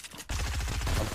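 Rapid gunfire in Fortnite bursts out suddenly after a brief lull, a dense, loud rattle of overlapping shots filling the remaining second with no talking.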